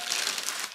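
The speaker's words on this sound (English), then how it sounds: "Again, in another plastic bag." Plastic bag packaging around an aluminium dead pedal for a Toyota Supra crinkles and rustles continuously, a close, steady crackling with no talk over it.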